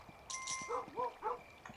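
A dog in the Kingdom New Lands video game barks a few quick yips close by, three short barks in a row, with a soft hum underneath.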